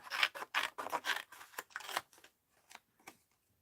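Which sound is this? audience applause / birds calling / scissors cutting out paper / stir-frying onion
scissors cutting out paper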